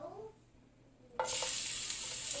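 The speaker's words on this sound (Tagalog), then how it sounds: "ngayon, igigisa na natin yung ating garlic at ating sibuyas" Garlic and onion hit hot oil in a pan with a sudden loud sizzle that jumps in after a quiet moment and keeps crackling steadily up close, with no voices.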